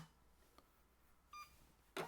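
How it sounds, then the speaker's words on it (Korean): A short electronic beep from the keypad of a KCP-SCS4200 Wi-Fi card payment terminal, one clear tone in a quiet room, followed moments later by a brief, louder burst of noise. "승인번호 누른 다음에 입력 버튼."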